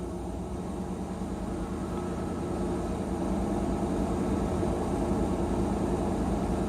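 A car engine idles steadily as its idle speed is stepped up with a scan tool commanding the idle air control valve, a continuous low drone that rises slightly in loudness partway through, heard alone without talking.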